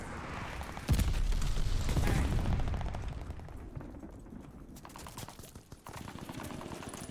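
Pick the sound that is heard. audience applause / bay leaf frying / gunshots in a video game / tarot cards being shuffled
gunshots in a video game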